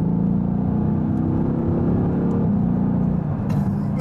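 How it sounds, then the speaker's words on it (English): Mercedes-AMG GT S V8 exhaust in Sport Plus with the valves open, a loud continuous engine drone holding steady close by, with a brief sharp crackle near the end. "put it into Sport Plus to get the valves open. Wow. The valves literally do open."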